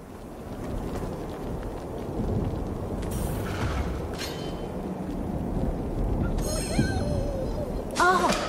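Video game storm sound: a continuous rumbling wash of wind and rain with a few bright metallic clangs and dings layered on top, loud and unbroken, without clear speech.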